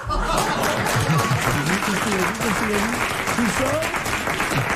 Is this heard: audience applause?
yes